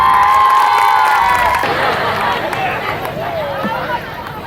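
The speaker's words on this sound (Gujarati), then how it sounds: "જોરદાર તાળીઓ થઈ જાય." An audience at a trophy presentation cheers and shouts loudly in a dense, sustained wave of voices, with clapping mixed into the noise.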